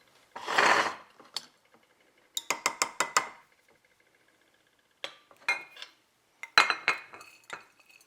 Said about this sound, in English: I'm just going to pop it in my casserole dish